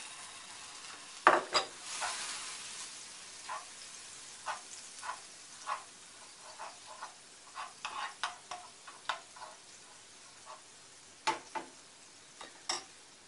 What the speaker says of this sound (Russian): разогреваем сливочное масло